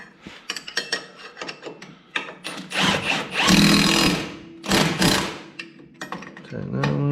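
Wrench tightening trailing arm bolts on a Polaris XP, close rapid ratcheting clicks in bursts with metallic clanks and rustling between them.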